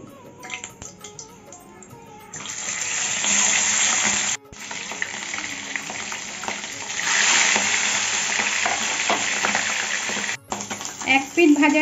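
Pabda fish sliding into hot mustard oil in a kadai, setting off a loud, dense sizzle that swells and holds with brief dips and a few clinks near the end.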